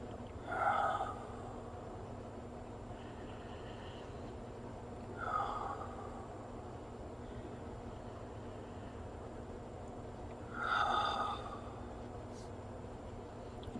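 Three deep breaths spaced several seconds apart, each a soft, close, airy inhale-exhale swell over a quiet low hum.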